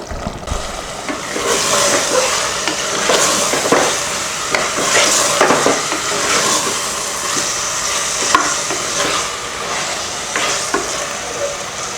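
Tomatoes sizzle and fry in hot oil for tomato rice while a spoon stirs and scrapes the pan in intermittent strokes, close and steady.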